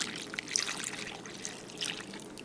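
Cold water poured close up into instant pudding mix for a no-bake birthday cake pie, a soft continuous splashing trickle with small bright spatters and no talking.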